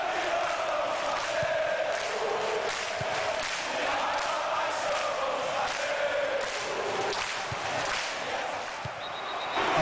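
Simulated stadium crowd noise from a Flamengo versus Palmeiras Libertadores final in a football video game, a dense continuous roar of fans mixing scattered applause and boos, steady and loud throughout.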